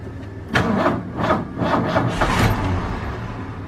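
A Ford F-150 pickup with a stick shift and a faulty ignition switch cranks in several rhythmic bursts, catches briefly, then dies away into a low fading rumble.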